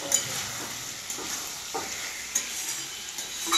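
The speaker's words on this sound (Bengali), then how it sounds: "মাংসটা দিয়ে আমি কিছুক্ষণ ভাজবো" Old chicken meat frying in a pan gives a steady, soft sizzle with scattered stirring scrapes and clicks, moderately quiet and with no voices.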